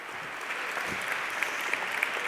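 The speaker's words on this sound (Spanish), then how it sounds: "por favor un fuerte aplauso para Ricardo" Sustained applause from an audience at a design conference welcomes a speaker onto the stage, a dense and steady clatter of clapping at moderate volume with a few sharper claps near the end.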